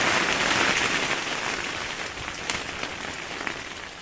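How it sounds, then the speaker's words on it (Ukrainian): Steady rain falls on surfaces outdoors at a garden plot with a greenhouse, a soft continuous hiss with scattered droplet taps, moderately faint and with no one talking. "Дощик іде."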